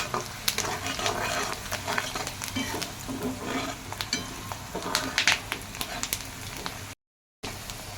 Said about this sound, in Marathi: खोबऱ्याचा कच्चेपणा जाण्यासाठी पहिले प्रथम खोबरं भाजून घेऊया